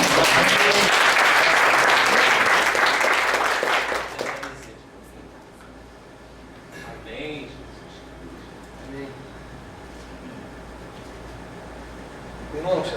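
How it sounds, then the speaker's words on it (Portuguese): A church congregation at a Sunday service bursts into loud, dense applause for about four seconds, then it cuts off, leaving quiet room ambience with faint voices and murmurs. "As palmas de honra ao Senhor."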